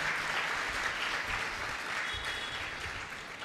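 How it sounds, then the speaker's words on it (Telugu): A church congregation claps together in praise, a dense, steady burst of many hands that fills the room, slightly far, and eases off near the end. "చప్పట్లు కొట్టి ప్రభుని స్తుతిద్దామా?"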